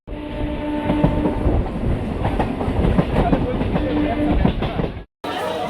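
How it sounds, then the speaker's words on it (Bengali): A crowded early-morning Namkhana local passenger train from Sealdah's south section rumbles and clatters steadily on the rails from inside the coach. Background noise stays constant, then cuts off briefly near the end. "শিয়ালদার সাউথ সেকশন থেকে নামখানা লোকাল ধরেছি 7:14"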